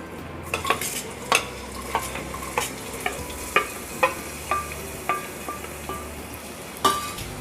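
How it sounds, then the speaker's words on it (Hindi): Roughly chopped medium onion fries in butter and oil in a pressure cooker, a soft sizzle under repeated clinks and scrapes of a spoon stirring against the metal pot. "और प्याज को 1 से 2 मिनट तक के लिए हमें भूनना है।"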